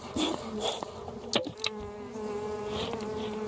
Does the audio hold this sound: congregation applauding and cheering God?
no